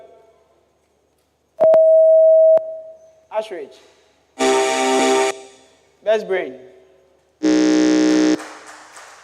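Contestants at a junior science and maths quiz championship test their buzzers, giving a pure tone beep followed by three long, loud, harsh electronic buzzes, with a person speaking briefly between them.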